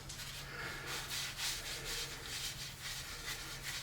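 Wood paste is rubbed into a wooden bowl on a running lathe, making a faint, steady rhythmic scuffing with regular pulses over the low hum of the turning machine, close and quiet.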